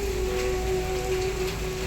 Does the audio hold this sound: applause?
no